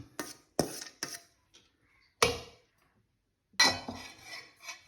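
A utensil stirs scrambled egg and rice in a pan for chicken fried rice, making sharp metallic scrapes and clinks in irregular bursts separated by short silences, close and fairly loud.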